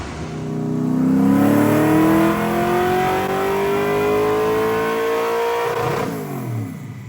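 An LS3 V8 in a drift car revs hard during a dyno pull, its loud engine note climbing steadily for several seconds before dropping off as the throttle closes, with no talk over it.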